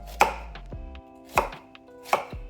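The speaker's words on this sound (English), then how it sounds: "We are going to chop up the onion that is going to go in our pestle and mortar." An onion for guacamole is chopped with a knife on a board: three sharp, evenly spaced chops, close and clear against near silence.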